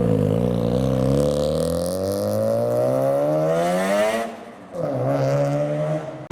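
A car leaving a JDM car meet, its engine revving and rising steadily in pitch up close, a brief gap, then pulling away again loudly.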